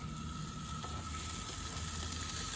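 Machaca frying for breakfast burritos, a steady close sizzle that runs without a break under a constant low hum, moderately quiet and with no talking.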